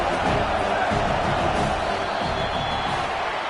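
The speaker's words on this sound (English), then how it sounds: "The roar of the crowd trying to fuel this defense to keep them pinned in their own end" A dense roaring crowd fills a stadium in a USC college football video game, a steady loud wash of cheering held at one level throughout, with no clear breaks.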